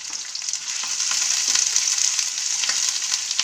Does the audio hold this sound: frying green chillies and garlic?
yes